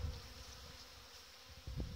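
Honey bees in an opened hive of a medium colony on four frames, a steady continuous buzz throughout with a brief louder surge of movement near the end, close and fairly faint, no talking.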